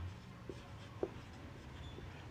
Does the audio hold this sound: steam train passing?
no